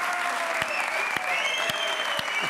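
Studio audience applause for Kino on a late-night talk show, a dense, steady roar of clapping with a few sharper claps standing out.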